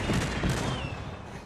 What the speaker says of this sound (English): It shoots cannons